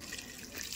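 Water poured over newly planted winter flower plants, a brief close rushing splash of flowing water heard alone.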